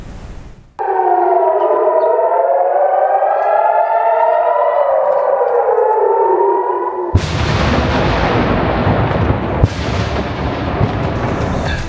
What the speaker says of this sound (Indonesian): Hampir setiap 10 menit sekali sirine berbunyi, pertanda mereka harus segera berlari ke tempat perlindungan.